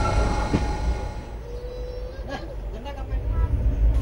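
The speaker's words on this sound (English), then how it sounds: "Our final destination, Kanyakumari, our final train ride on track and traction." Train ride toward Kanyakumari in southern India, with a steady low rumble of the moving railway carriage and a faint wheel squeal, while voices carry under the constant rolling noise.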